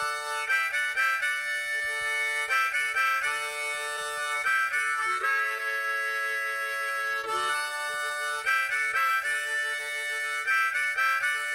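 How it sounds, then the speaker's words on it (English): Harmonica chords play in loud, reedy bursts, alternating breathy notes with short gaps, repeating in a rhythmic pattern. "Harmonica."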